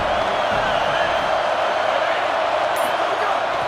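A stadium crowd in a college football video game, a matchup against Indiana, roars in a loud, steady, unbroken wall of cheering that holds for the whole stretch.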